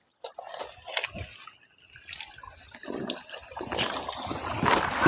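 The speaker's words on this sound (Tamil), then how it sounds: "உங்களுக்காண்டி தண்ணியை குடிச்சு காட்டுறேன்." Fresh water from an outdoor source on a teak plantation in Kerala, splashing and trickling close by with sips and drips, growing steadier and louder toward the end, no talk.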